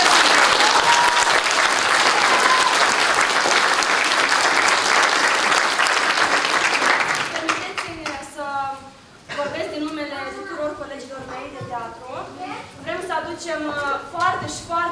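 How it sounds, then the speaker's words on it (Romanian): Audience applause for a woman at a Romanian event, loud sustained clapping that fades after several seconds as a voice begins talking over the last of it. "Și încă o dată vrem să o aplaudăm"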